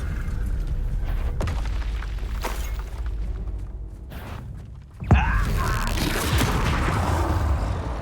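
Bombarda explosive spell in Hogwarts Legacy goes off with a sharp crack and boom at about five seconds amid combat noise, followed by a long crackling, shattering rumble.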